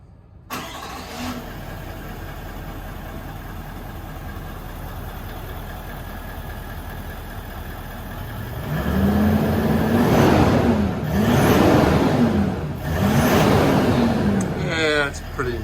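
A Toyota Land Cruiser 200 series with a new DPF-back exhaust system holds a steady, muffled idle after a cold start, then swells through three distinct revs in the second half, each rising and falling back, close and fairly loud.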